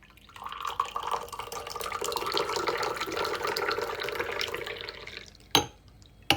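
Hot water pours steadily over tea leaves in a glass, a continuous splashing, trickling stream close by that stops abruptly, followed by a sharp clink of glass.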